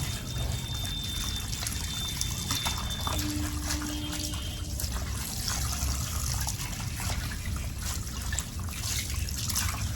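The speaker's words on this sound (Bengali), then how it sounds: "ভালো করে ধুয়ে নিতে হবে" Cut fish being washed at a waterside gives continuous splashing and trickling water up close, steady for the whole stretch with no voices.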